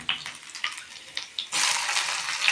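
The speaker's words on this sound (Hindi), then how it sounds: "तेल गर्म होने के बाद मैं उसमें प्याज डालूँगी" Onions frying in hot oil in a kadai, a soft crackling hiss that swells into a steady, louder sizzle partway through, with no voices.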